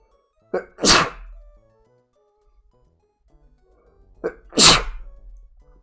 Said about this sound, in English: For now, I'm gonna sneeze.